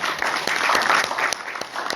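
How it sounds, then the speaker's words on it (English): Audience clapping for a journal editor being introduced at an academic event, a brief burst of many hands with a few sharper individual claps standing out up close. "As I read, please applause and try to..."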